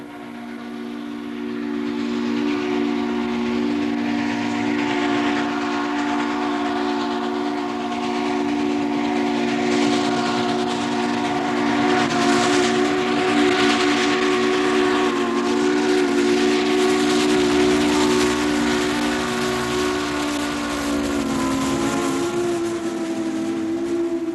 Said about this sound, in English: Now begins the prized ritual of the steam train excursion.